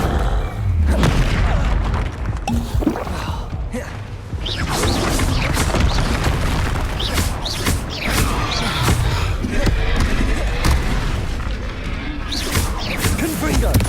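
Repeated Confringo explosive spells burst in the Hogwarts Legacy video game, with several heavy booms and crashes across a loud, continuous battle din while spells are shouted.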